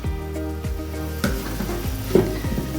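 Bhola fish gravy cooking in a pan gives off a steady close sizzle and bubbling, with a few sharp clinks of a spoon against the pan and no voices.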